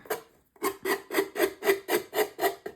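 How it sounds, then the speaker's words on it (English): Rhythmic rasping strokes of sandpaper along the edge of a decorated mini album, about nine steady back-and-forth rubs after a brief pause, close and clear with no talk. "I'm just gonna sand that, basically just that little tiny bit off"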